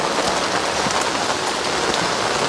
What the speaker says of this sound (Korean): 비가 지금 계속 이렇게 연일 내리고 있는데